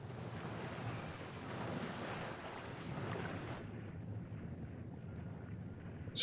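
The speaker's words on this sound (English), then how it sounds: "Stormy weathers." Stormy sea and howling wind from the 1956 Moby Dick film, a dense, steady roar of surf and gusts that drops to a lower rumble after a few seconds, ending with a sharp burst.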